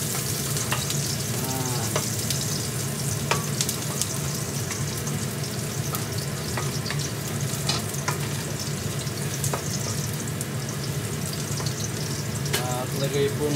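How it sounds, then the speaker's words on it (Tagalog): Chopped garlic sizzles steadily in hot cooking oil while being stirred for veggie lumpia with shrimp, a constant close frying hiss broken by scattered clicks and scrapes of the utensil in the pan. "Ito po at mainit na ating mantika. Lalagay po natin ang ating bawang. Ayan. Haluin lang natin."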